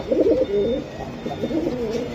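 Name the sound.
pigeons cooing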